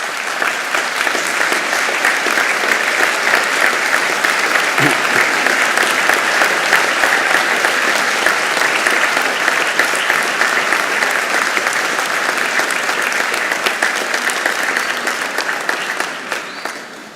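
A graduation audience at the Royal Veterinary College gives sustained, dense applause from a large crowd, steady and loud throughout before easing off at the very end.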